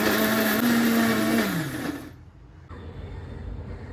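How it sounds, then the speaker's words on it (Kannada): A Bajaj mixer grinder whirs loudly as it grinds fish fry masala for a coastal pomfret tawa fry, its steady motor whine dropping in pitch as it winds down and stops, leaving a quieter hiss. "ಇನ್ನು ನಮ್ಮ ಬಜಾಜ್ ಮಿಕ್ಸಿ ಯೂಸ್ ಮಾಡಿ ಟರ್ ಅಂತ ನಮ್ಮ ಮಸಾಲೆ ರೆಡಿ ಮಾಡ್ಕೊಂಬ"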